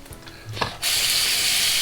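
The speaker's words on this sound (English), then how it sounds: "Just letting the razor do its job here. Putting almost no pressure on it." A razor glides over slick ARKO shaving soap lather with very light pressure, a short scraping stroke followed by a steady, close, bright hiss of blade on stubble.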